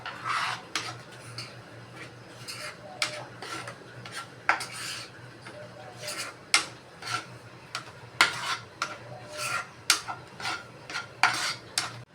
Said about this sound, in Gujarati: તો એની અંદર આપણે નાખી દઈશું 1 કપ જેટલી સૂજી। એને મિક્સ કરતા જઈશું।